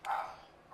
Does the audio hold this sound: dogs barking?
yes